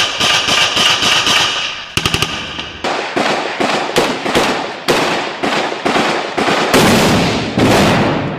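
Rapid bursts of close, loud machine gun fire during fighting against separatists in Mariupol, Ukraine, with sharp cracking volleys in repeated strings and brief pauses between them.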